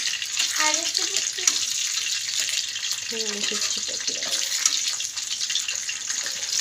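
Fish fries in a pan with a steady, hissing sizzle that stays loud and even throughout, while someone speaks over it at close range.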